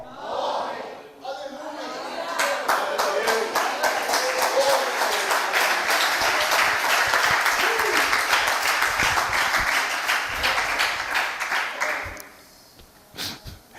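A church congregation applauding together, a dense sustained wash of clapping that swells after a short pause, holds steady for about ten seconds, then fades out at the end.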